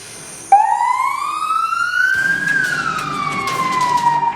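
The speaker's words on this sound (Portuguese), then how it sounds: "A sirene toca" A loud emergency siren starts abruptly and wails, its pitch rising slowly then falling, close by and sustained.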